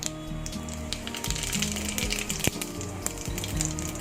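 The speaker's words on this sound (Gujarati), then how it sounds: "જીરું ફૂટી ગયું છે" Cumin and mustard seeds crackle in hot oil while khichdi is being tempered, giving a steady close sizzle with scattered sharp pops and spits throughout.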